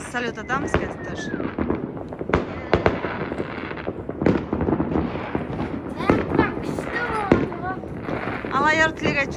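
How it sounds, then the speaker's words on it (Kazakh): New Year fireworks go off outdoors in a rapid series of sharp bangs and crackles, some near and loud, with whistling rising shots, while people talk and call out excitedly throughout. "Біз салют атамыз қазір тоже."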